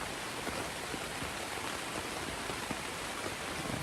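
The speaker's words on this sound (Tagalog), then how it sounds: "Lakas sa ulan." Heavy rain pours onto a camping tent, a dense, loud and steady hiss of drops drumming on the fabric without pause.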